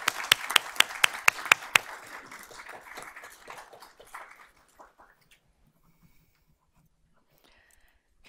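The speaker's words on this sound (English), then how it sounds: "let's give them another round of applause" Audience at a Board of Trustees meeting claps during an honors and achievements segment, a few sharp claps at first over a short burst of applause that fades out within about four seconds, leaving near silence.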